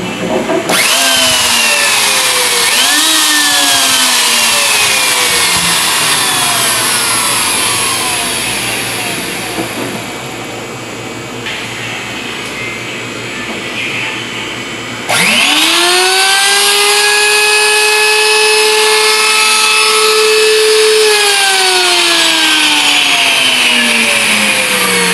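Alsaif electric coffee grinder, an old unit, running loud and close with a high motor whine that rises and falls, dips in pitch midway, then surges back to a steady high drone to the end.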